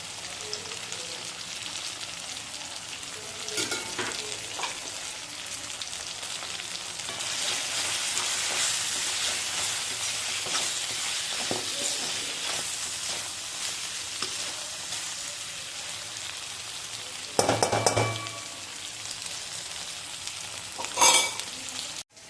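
Mutton fry with fried cashews sizzling steadily in a pan, a continuous hiss with scraping stirs and a few louder clatters of the spoon against the pan near the end.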